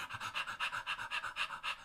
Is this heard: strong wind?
no